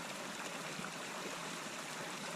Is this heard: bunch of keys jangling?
no